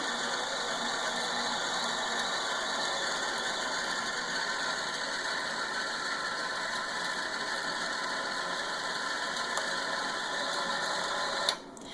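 A sewing machine winds thread onto a bobbin with a continuous, even mechanical whir close by, steady throughout, then it cuts off abruptly at the end.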